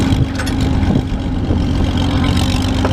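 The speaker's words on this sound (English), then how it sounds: "Best sounding straight pipe engine there is." A loud straight-piped engine with a ported head and shaped exhaust runs close by, holding a steady, rough, throaty drone for the whole stretch.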